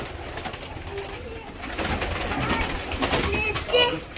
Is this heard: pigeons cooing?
yes